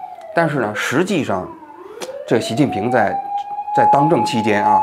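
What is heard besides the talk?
ambulance siren outside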